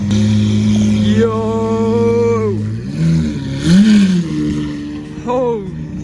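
A Lamborghini Aventador Roadster 50th anniversary V12 runs loud and close, holding a deep steady tone before pitch swoops up and down in short throttle blips.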